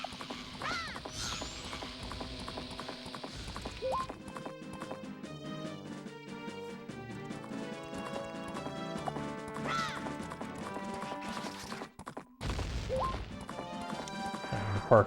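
Horse galloping in the N64 game The Legend of Zelda: Majora's Mask at Romani Ranch, rhythmic hoofbeats over game music with an occasional whinny, steady throughout.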